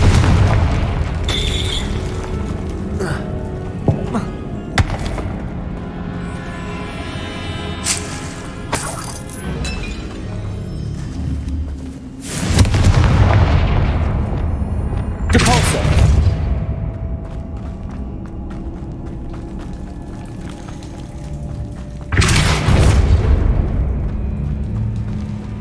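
Confringo blasting spells exploding in Hogwarts Legacy, several loud booming blasts spaced across the stretch with the biggest near the middle and end, each decaying into rumbling tails over ongoing game sounds.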